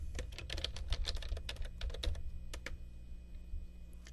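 Quick, uneven bursts of key clicks from a computer keyboard, fairly close and quiet, with a short pause before a few final taps, nothing else heard.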